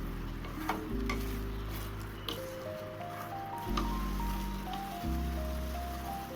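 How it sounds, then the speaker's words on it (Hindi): Matar paneer masala frying in oil, Bihari style, with a low crackling sizzle and occasional stirring scrapes, under steady background music with sustained tones. "तो चलिए इसे भूनती हूँ अच्छे से एकदम तेल छोड़ने तक"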